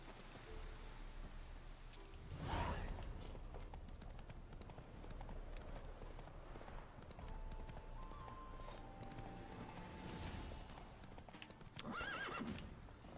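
Roach, a horse in The Witcher 3, whinnies loudly twice over steady close hoof clip-clops, with a third neigh near the end and faint game ambience underneath.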